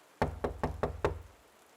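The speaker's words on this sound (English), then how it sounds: "I woke up some hours later to a knocking noise." Five evenly spaced, firm knocks on a hotel room door in the middle of the night, close and distinct against a quiet background.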